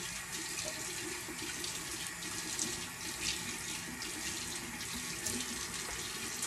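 Warm water runs steadily from a tap into a sink while a face is wetted, a constant soft splashing hiss with small irregular spatters, quiet and close, with no voices.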